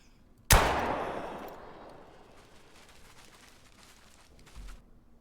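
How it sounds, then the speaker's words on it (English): A single loud 20-gauge slug shot fired at a buck in the hunting game theHunter: Call of the Wild, a sharp crack that rolls into a long decaying boom, with a faint thump near the end. "We made a 63-yard lung shot"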